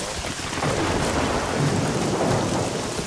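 Heavy rain and rolling thunder in the survival video game SCUM form a dense, loud, continuous wash of noise with no voices over it.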